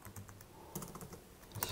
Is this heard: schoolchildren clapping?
no